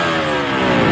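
An old two-stroke motorcycle engine running on ECO racing revs loudly and steadily, a close, buzzing mid-pitched drone that holds for the full second with no talk over it.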